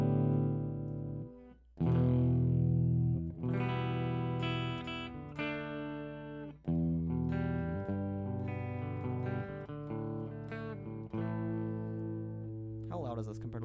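Electric guitar played through a distortion effect in a mixing session, sustained chords ringing loud and saturated with sharp attacks on each change, alone with no voices.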